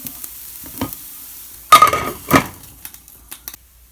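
Rice and lentil cutlets in a pan give a couple of sharp sizzling bursts as they are poked with a knife or fork, followed by small clinks and quiet scraping, close and clear with no talk.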